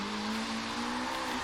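A Nissan Silvia S14 drifts on a rain-soaked road in Forza Horizon 3, its engine holding a steady high drone with a sustained tire-squeal tone running close and loud throughout.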